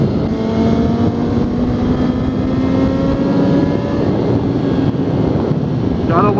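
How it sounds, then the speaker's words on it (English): A motorcycle engine pulls hard and steadily with rising pitch as it accelerates through the gears, loud and continuous with wind rush over the microphone and no speech. "Gotta love those 6 gear pulls to get through those yellow lights."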